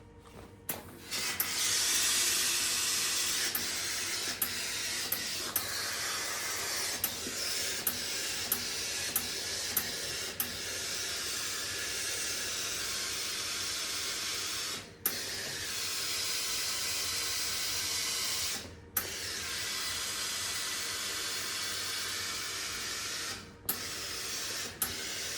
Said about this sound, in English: Let me steam this Kathleen.